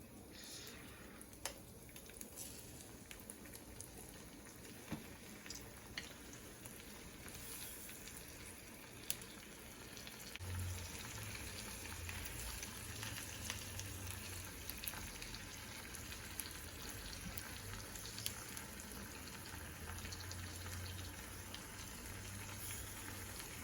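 Steady sizzle of fresh lemon juice hitting a hot pan with pan-seared salmon in garlic butter sauce, a continuous crackling hiss with scattered pops that swells slightly partway through.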